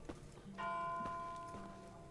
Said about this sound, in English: The first tolling of the bells.